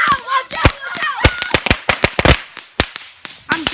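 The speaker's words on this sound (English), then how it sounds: "we're doing fireworks" Firecrackers burst in rapid, irregular succession at close range, a string of loud sharp cracks with short gaps, and voices shout briefly over the opening blasts.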